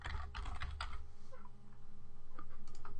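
Steady typing on a computer keyboard, a quick run of close key clicks with brief pauses, heard alone without any talk.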